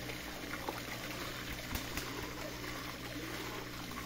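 Water trickles and burbles steadily at an outdoor stream, a continuous close wash of flowing water with faint splashes.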